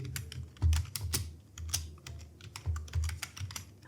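Rapid keystrokes on a computer keyboard while entering text into an Excel spreadsheet, an irregular run of close, crisp clicks with a few heavier key presses and no talking.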